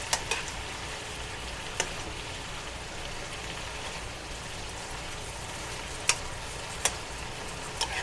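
Vegetables for sweet and sour chicken cooking in a pan, a steady close sizzle and bubbling as water boils off, with a few sharp clicks of stirring, no talk.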